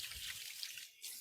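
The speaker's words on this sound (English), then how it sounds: "Let me go give my hands a quick rinse." Hands are rinsed under a running kitchen tap, a brief soft hiss of flowing water splashing with a short dip in the middle.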